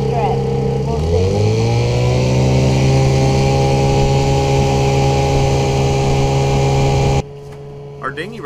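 A motor dinghy's outboard engine drones loud and steady on a ride through mangrove channels of the Ten Thousand Islands near Everglades City, its pitch rising briefly near the start before the engine abruptly cuts out, leaving quieter ambience.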